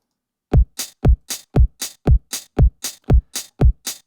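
House-style groove with a four-on-the-floor kick drum thumping on every quarter note and an open hi-hat hiss landing on each offbeat, steady and evenly spaced, with no voices.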